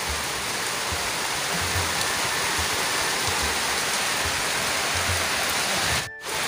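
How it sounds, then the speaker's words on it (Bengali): Heavy rain pouring down outdoors, a loud, dense, continuous roar of rainfall with low rumbling underneath and a brief dip near the end. "দেখো জোরে বৃষ্টি আসছে আরো।"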